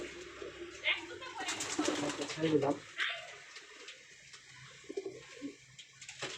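Young pigeon chicks cooing in a loft, soft low coos and rustling close by, partly under a man's speech early on, with quieter coos later.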